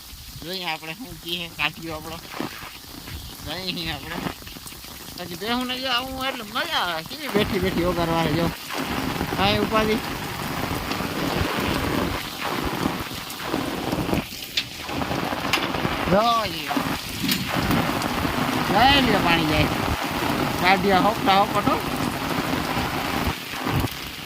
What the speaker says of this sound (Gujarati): એકદમ વરસાદ આવ્યો છે